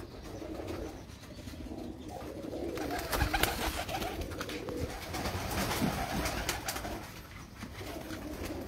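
Pigeons coo softly on a rooftop in Sharjah, their low calls continuous over light background noise, with occasional chirps and scuffles at moderate distance.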